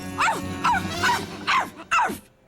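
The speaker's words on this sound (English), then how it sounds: "A barking reindeer." Four sharp, hoarse reindeer barks spaced about half a second apart, close and fairly loud, each a short rising yelp with a rough edge.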